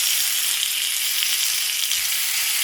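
A steak searing on a grill pan gives a loud, dense, unbroken sizzle that holds steady throughout, close by and with no voices.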